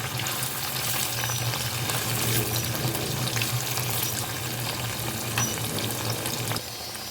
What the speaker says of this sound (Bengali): তো আমি এইভাবেই হালকা করে একটু পনিরটাকে ভেজে দিচ্ছি